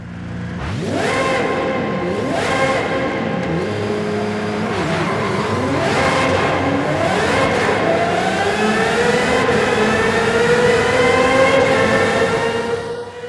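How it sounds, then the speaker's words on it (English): A high-revving Cosworth V12 engine in the video game Forza Horizon 5 screams up and down through the gears repeatedly, loud and close, rising to a sustained wail near the end. "let that glorious Cosworth V12 engine speak for itself"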